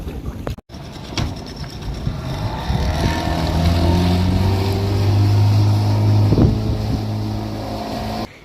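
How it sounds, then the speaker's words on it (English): A motorboat dinghy runs through 2 to 3 foot seas into a 20-knot headwind, its outboard droning loud and steady while wind buffets the microphone and the hull thumps, after a brief dropout near the start. "it's a long dinghy ride in 2 to 3 foot seas, and it's like 20 knots of wind straight in your face"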